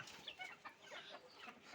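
Native chickens, young birds being raised as parent stock, cluck softly on a home terrace, with scattered short calls overlapping in a quiet, busy chatter.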